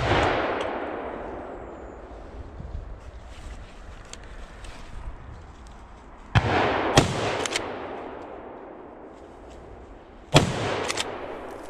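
Two sharp rifle shots ring out during a driven wild boar hunt in France, spaced a few seconds apart, each loud, crisp crack followed by a short outdoor echo, over a steady background of wind and ambient noise.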